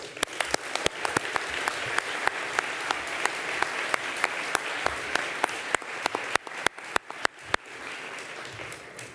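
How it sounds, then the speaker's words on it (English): A round of applause at a nursing awards ceremony, an audience clapping steadily and evenly with distinct sharp individual claps popping out on top, sustained for several seconds and fairly close. "you deserve another round of applause"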